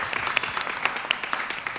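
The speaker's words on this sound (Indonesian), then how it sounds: "Tepuk tangan untuk adik-adik kita semua." An audience claps for young performers at a regional arts showcase in a pavilion hall, about two seconds of moderately faint, scattered hand claps with a few sharper hits standing out.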